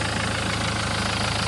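A Renault 1.5 dCi diesel engine, suffering from oil in the coolant, idles after a radiator hose repair with a coolant additive added, a loud, close, steady low rumble with a fast regular knock pulsing underneath.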